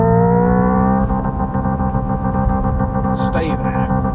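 A Hyundai Ioniq 5 N sits at its rev limiter, holding a steady synthesized engine drone that then drops away, with someone talking in the cabin over the road noise.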